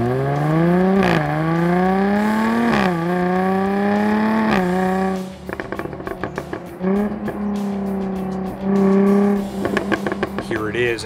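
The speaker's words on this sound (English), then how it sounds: "This is the F-Type with the little supercharged V6" A Jaguar F-Type with a supercharged V6 revs repeatedly, each loud rising blip falling away, then snarls through a run of crackling, popping exhaust bursts and a final rev, heard close and clear.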